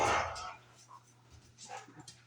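Dogs bark faintly in the background, a few short, distant yelps over a steady low hum while a person talks.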